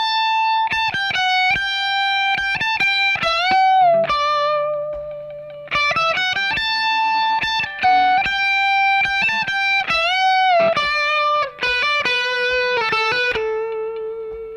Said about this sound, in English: The main lick sounds like this